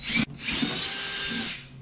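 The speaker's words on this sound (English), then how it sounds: "because I have the pilot hole, it's a little easier to drill right through" A power drill bores through a plastic saddlebag being fitted to a 2016 Indian Scout 60 motorcycle, giving a short whine, a brief stop, then a longer steady high-pitched run close by.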